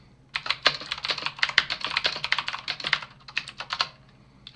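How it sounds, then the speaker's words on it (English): Rapid, loud clatter of typing on a computer keyboard, close up, with dense irregular bursts of key strikes running for about four seconds before trailing off. "Sorry, my typing is going to be loud."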